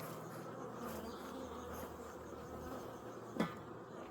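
Honeybees buzzing steadily around an open hive, a faint continuous drone with one brief louder pass near the end.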